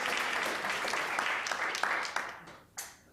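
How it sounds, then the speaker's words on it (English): Audience applause at the end of a conference session, a dense round of clapping that thins out and fades, with a few last claps trailing off. "Let's give everybody a big round of applause at this point."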